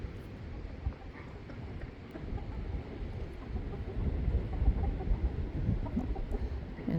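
Chickens and roosters clucking in a yard, soft scattered clucks over a low rumbling background that grows slightly busier toward the end.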